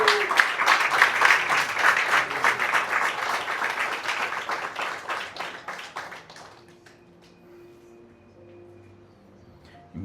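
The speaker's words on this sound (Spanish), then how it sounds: "Dale el aplauso al Señor fuerte." A church congregation claps loudly and densely in praise, a strong wave of applause that holds for several seconds, then fades away and leaves a quiet, faintly humming room.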